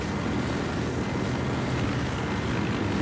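A transport helicopter in the video game Battlefield Hardline flies with a steady, loud, droning engine and rotor roar that holds even throughout, with no talk over it.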